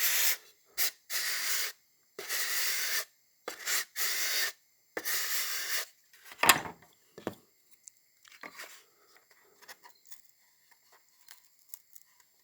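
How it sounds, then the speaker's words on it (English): A sanding block rasps across balsa wood in a series of short, close strokes, each a dry hissing scrape with brief gaps, followed by quieter handling taps and clicks. "Let me get a sanding block."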